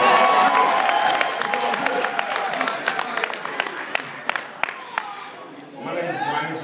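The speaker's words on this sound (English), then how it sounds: "give yourself a round of applause." Audience at a business event, an energy company gathering, bursting into loud applause and cheering that thins out into scattered individual claps, with a speaking voice coming in near the end.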